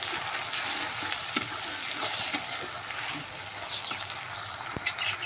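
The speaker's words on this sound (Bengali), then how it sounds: "সুন্দর করে ভাজে নেব, পানি দিব না।" Ginger-garlic paste fries with onions in a hot pan, giving a steady close sizzle with light stirring scrapes and occasional clicks throughout, no water added.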